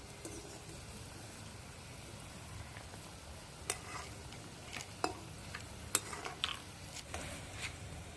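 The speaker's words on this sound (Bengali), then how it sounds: "উল্টে পাল্টে ভেজে দিতে হবে হালকা আগুনে" Steady soft sizzling of sweet potato pitha frying in a pan over low heat, with a few light scrapes and clicks of a utensil turning the pieces.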